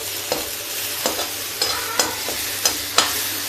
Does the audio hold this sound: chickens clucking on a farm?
no